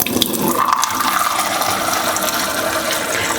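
Water pours into a cooking pot while making rice, a rushing, splashing fill that starts strongly and settles into a steady running stream for a few seconds.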